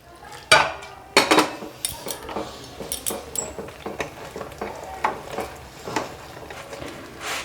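Rice flour dough stirred in a pan for aouta pitha, a Bangladeshi rice cake, giving repeated scraping and clinking strokes of a utensil against the pan at a steady, uneven rhythm, close and moderately loud with no talk.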